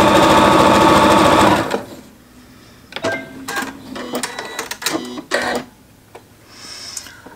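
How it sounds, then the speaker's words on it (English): A sewing machine stitches a jelly roll strip seam, starting with a loud steady run of about 1.5 seconds, then quieter short bursts and clicks as the fabric is guided along. "I'm going to sew all the way down this line here"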